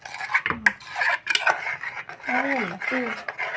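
A spoon scrapes and rasps against a vessel while palappam batter is mixed with curd, producing irregular stirring and rubbing noises under a voice talking.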